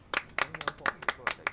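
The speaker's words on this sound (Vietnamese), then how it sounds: "Nè, cho anh một tràng pháo tay đi." A few people clapping in a loose, uneven rhythm, about a dozen distinct close claps in quick succession with no speech over them.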